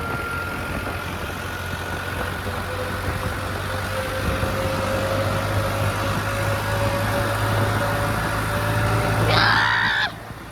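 A New Holland tractor engine running on a farm, a loud, steady low hum with a continuous drone that shifts abruptly just before the end.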